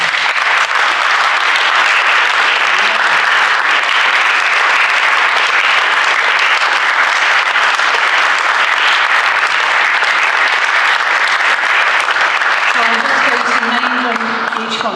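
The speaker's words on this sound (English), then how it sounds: "Let's applaud all the wonderful poses." An audience at a kind poetry reading applauds all the poems, with dense, loud, sustained clapping for the whole stretch that thins slightly near the end as a voice begins.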